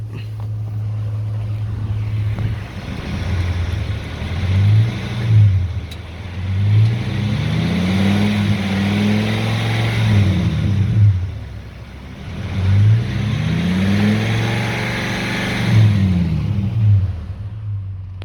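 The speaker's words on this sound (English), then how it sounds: "All right, we're gonna rev it up a little bit." A 2006 Ford F250 V10 4x4 pickup idles steadily and is revved several times in smooth, rising and falling sweeps, loud and close with no talking.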